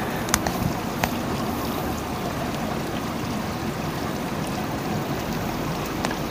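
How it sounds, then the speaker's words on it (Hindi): A small waterfall with a steady rushing, splashing flow of water, heard close and continuous, with a few faint clicks. "ये थोड़ा छोटे सा वाटरफॉल देखने हैं"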